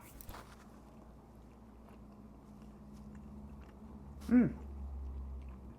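Someone chews a small, hot pineapple muffin made with crushed pineapple. Soft, close mouth and chewing noises sit under low room noise, with one short hummed vocal sound of enjoyment.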